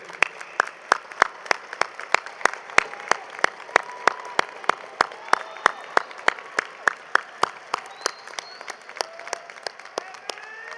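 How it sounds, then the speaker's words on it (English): At a fall commencement ceremony, the audience applauds the graduates' supporters with a steady crowd of clapping, punctuated throughout by loud, regular claps, with faint crowd voices beneath. "join me in giving them a round of applause for the support they have given to you"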